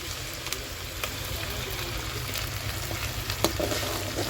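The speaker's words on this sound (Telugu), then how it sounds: "టమాటా పేస్ట్ వేసుకున్నాం ఉల్లిగడ్డలు అయితే వేగినాయి కదా" Tomato paste frying with already fried onions for a chicken gravy curry, a soft steady sizzle with occasional stirring clicks, fairly faint.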